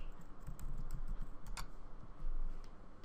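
Someone types on a computer keyboard, a quick irregular run of light clicking keystrokes with one louder tap, close and alone with no talking.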